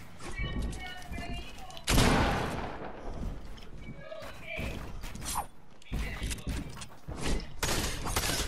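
Gunshots in a one-on-one video game match ring out in sharp bursts, with a heavy blast near two seconds and scattered cracks later, mixed with game noise and a voice talking over it.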